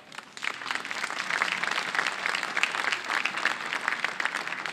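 A concert audience gives a large choir a loud, dense round of applause that starts quickly and holds steady throughout, with no voices over it.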